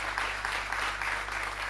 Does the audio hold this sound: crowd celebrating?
yes